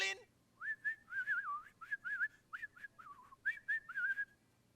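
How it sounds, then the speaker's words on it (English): A person whistles a quick, warbling tune in short bursts, clear and close against a quiet background, heard in a South Park episode scene. "If you want your pizza, you gotta whistle."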